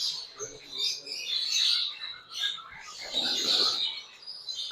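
Pet birds in a shop, among them red opaline and mantle-type breeding pairs, chirp and tweet continuously in a busy, overlapping chorus close by.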